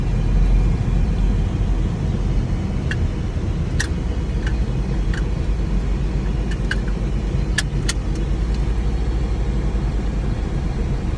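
A Smart car cruising with steady road and engine rumble, faint ticking clicks scattered over the constant low drone.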